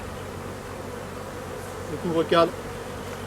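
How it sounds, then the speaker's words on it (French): A steady hum of honeybees fills the air around an open beehive during a first swarming season, a continuous buzz with a short spoken phrase rising briefly over it near the end. "je fais gaffe de ne pas emprisonner d'abeilles dessous."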